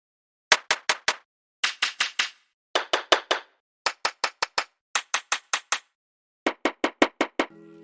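Sharp clap samples from a trap drum kit, fired in quick bursts of three to five crisp hits separated by short pauses, dry and upfront with nothing else playing.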